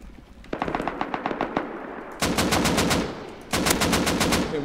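Bursts of automatic AK and other gunfire in the video game Rust, first a ragged string of separate shots, then two dense, loud sustained volleys, close and with no talk over them.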